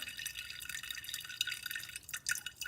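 Water trickles and drips steadily from the outlet of a LiquaGen 5 stage RODI filter unit, a faint, close, continuous flow with a brief dip near the end.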